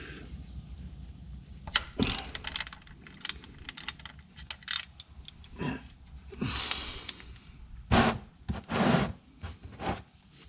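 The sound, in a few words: wrench loosening 14 mm oil drain plug on Toyota 4Runner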